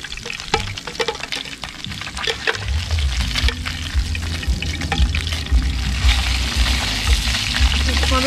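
Fish sizzling in oil in a pan at a riverside, a continuous crackling fry with sharp spattering pops that grows steadier and louder, with low rumble and clatter underneath.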